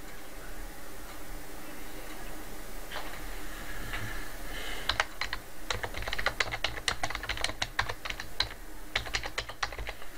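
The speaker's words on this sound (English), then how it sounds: "So let me just type this" Typing on a computer keyboard: sparse keystrokes at first, then a quick run of close, crisp key clicks in uneven bursts with a faint room hum underneath.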